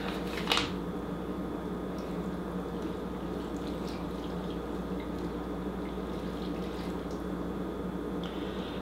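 Water pours steadily into a pot roast pan in a kitchen, a faint, even trickling hiss that runs under a low background hum, after a brief sharp clink at the start.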